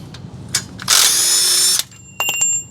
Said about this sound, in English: we're gonna remove these two 13mm bolts that's holding this starter